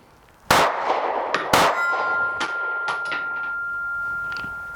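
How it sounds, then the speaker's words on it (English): An empty magazine ejects from a Taurus GX4 micro-compact 9mm pistol, with two loud metallic clangs close together, a few lighter knocks, and a ringing tone that fades slowly, no talking. "Empty mag, you hit that button and it just kicks it right on out of there."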